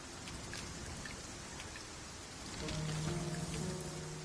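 Heavy, steady rain pours down in the video game Dragon's Dogma 2, dense and hissing, with a low tonal hum joining in over the last couple of seconds.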